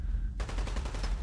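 Rapid rifle fire in Fallout 4 crackles out in a quick, evenly spaced string of shots after a brief lull, loud and close with a dense rattling rhythm.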